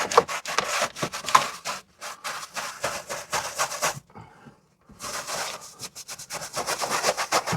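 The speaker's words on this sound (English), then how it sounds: "Oh, stripped a lot of paint off there" Paint being stripped off the metal of a Sprinter campervan, heard as a steady run of close, rhythmic scraping strokes with a brief pause partway through before the strokes resume.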